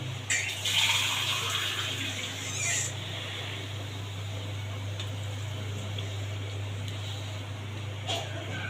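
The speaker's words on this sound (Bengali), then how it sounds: "সবজিটা যাতে সিদ্ধ হয়ে যায় সেই পরিমাণে পানি দেব" Water pours and splashes into a cooking pot of vegetables in a rural-style kitchen, a steady rush for a few seconds that fades to a low background hum.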